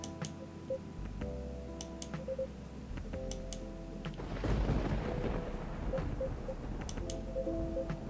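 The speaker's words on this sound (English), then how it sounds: "Aside from the thunder outside." Thunder rumbles outside in the Coffee Talk video game, a low rolling swell that builds midway over steady rain and soft background ticks, with gentle game music tones running throughout.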